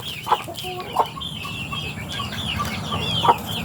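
Chickens kept as backyard fowl cluck in a few sharp, distinct calls over a steady low rumble of ambient noise.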